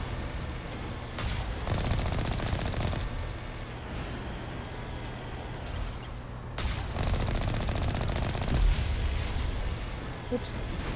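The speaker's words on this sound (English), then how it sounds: "You seem to be shooting a lot." Rapid bursts of automatic gunfire in the video game Mass Effect crackle in several clusters, fairly quiet overall and mixed with game sound effects.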